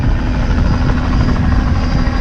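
A film crew's helicopter rotor thumps loudly and steadily, close and continuous, filling the whole moment, above a Clipper Race sailing fleet leaving Cape Town.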